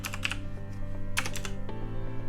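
A computer keyboard sounds up close in quick bursts of key clicks, pausing briefly between runs, over a faint steady background hum.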